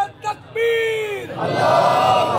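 After a short shouted call, a crowd at a majlis answers the takbir chant with a loud, sustained roar of massed voices.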